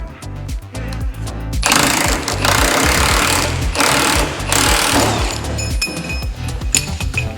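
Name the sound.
puller tightened to remove a corroded car part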